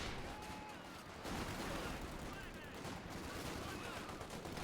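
Dense, continuous gunfire from MG42 machine guns and other weapons in a large Company of Heroes 2 4v4 battle, a loud chaotic wash of shots and blasts filling the whole stretch, with a faint voice underneath.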